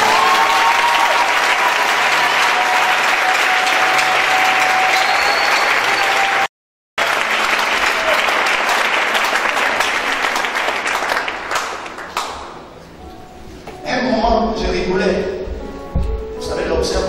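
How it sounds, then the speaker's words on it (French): A church congregation applauds and cheers for Jesus, a dense, loud wash of clapping and voices lasting many seconds with one brief cut, then easing into scattered claps and murmuring. "acclame Jésus."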